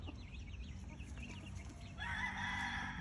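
A rooster crows faintly in the distance, joined by clucking hens, with outdoor background noise and no talking.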